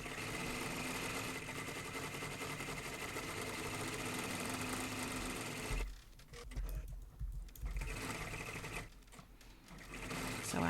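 An embroidery machine steadily stitches the antlers of an in-the-hoop reindeer ornament, a continuous loud mechanical whirr that drops away briefly around the middle before resuming.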